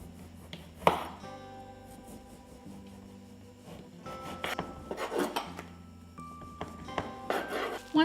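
A bread knife saws through round cake layers beneath a template, trimming them to size with soft rasping strokes and a few knocks against the board, close and fairly quiet.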